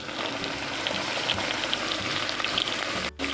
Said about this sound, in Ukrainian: я додаю знову трішки олії і додаю цибулю